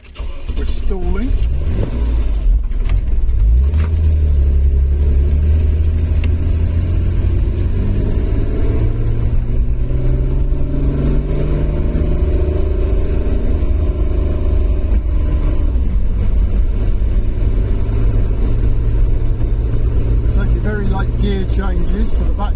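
An old car engine, freshly through carburettor cleaning, runs with a loud, continuous low rumble from inside the vehicle while driving, with a voice talking over it throughout.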